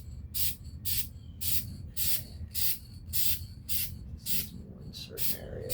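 Spray paint hisses onto an Umarex airgun in short, regular bursts, about a dozen sharp sprays close up, with someone talking quietly between them.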